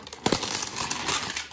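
Airsoft AKS-74U rifle packaging by Cybergun being cut open and pulled off, giving close, continuous crinkling and tearing rustles with a sharper rip near the start and no speech.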